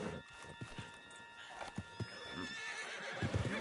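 A horse whinnies and clip-clops along in Red Dead Redemption 2, hooves striking in an uneven walking rhythm over a busy game backdrop, with a loud neigh rising near the end.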